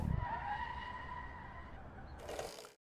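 A race car's tyres skid and squeal steadily under a handbrake pull in the Assetto Corsa Competizione racing sim, a sustained screeching slide over engine noise that ends abruptly.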